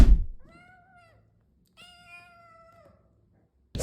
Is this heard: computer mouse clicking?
no